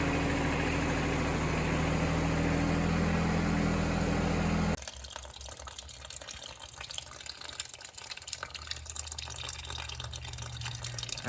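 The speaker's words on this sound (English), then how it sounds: "I removed that little drain plug right there from right here on the 2210 to drain the antifreeze" Antifreeze draining from the radiator of a John Deere 2210 compact tractor, a steady pouring splash of liquid for several seconds that then drops to a quieter trickle and drip over faint low rumble.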